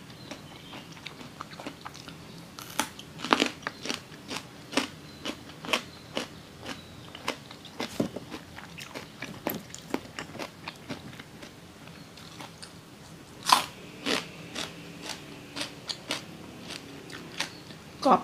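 Crunchy fresh raw vegetables, including bitter melon, are bitten and chewed close to the microphone alongside a straw mushroom chili dip, with sharp crisp snaps repeating every second or so over soft, steady chewing.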